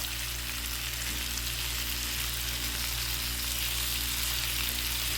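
Onion frying in a pan, a steady, close, dense hiss of sizzling oil that continues evenly throughout without talk.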